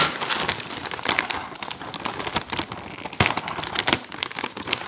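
Plastic bag of Torres luxury crisps being pulled open, loud close crinkling and crackling in irregular bursts with sharp tearing snaps, no talking over it.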